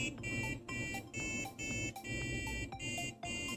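A small electronic buzzer in an RFID, servo and buzzer lab project plays a programmed tune of bright, shrill beeping notes in a regular tempo with short pauses between them, steady and uninterrupted.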